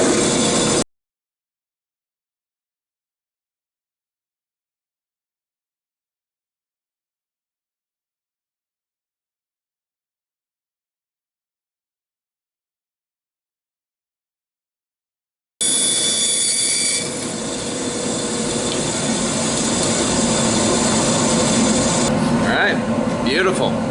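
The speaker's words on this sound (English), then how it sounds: "We're going to cut those relief cuts and then cut our curve." A woodworking band saw runs with a steady whine and rasp as it cuts relief cuts and a curve in wood, starting abruptly after a long silent gap and continuing close and loud to the end.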